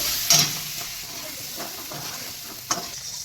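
Green peas sizzle and fry steadily in a pan for mushroom rice, with a few soft stirring scrapes and brief clinks over a continuous hiss, close and moderately loud.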